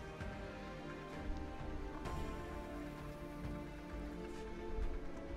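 The rain weather effect in the Gwent card game plays as continuous patter of falling rain with scattered droplet ticks, fairly quiet and steady throughout.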